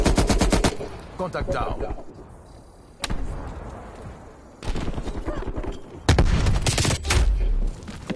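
Hostile sentry turrets in a first-person shooter video game unleash loud rapid bursts of automatic gunfire, several separate volleys with short gaps between them, while a player's voice speaks over the shooting.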